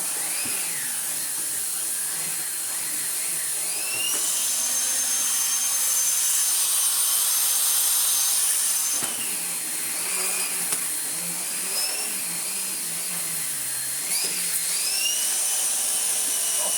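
A restored 2014 Numatic James JVP-180 upright vacuum cleaner running steadily and loudly up close, its motor drone shifting in pitch as it is pushed across floor and rug, with no talking.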